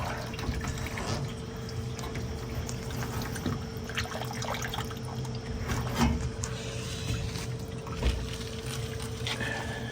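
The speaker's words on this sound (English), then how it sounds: "Here comes the rest of the water." Water drains out of a Samsung washer with a bad DC31-00054D pump, a steady close splashing and trickling flow with a low hum underneath, a few brief louder gushes, and no talking.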